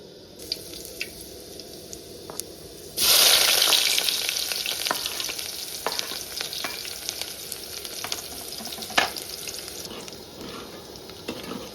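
Onion hits hot oil for a river crab curry, a sudden loud burst of sizzling that slowly settles into a steady fry with scattered stirring clicks.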